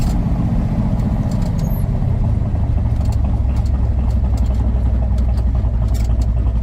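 A 1966 Chevrolet Corvette engine drones at steady revs after a downshift, a loud, continuous low rumble heard from inside the car.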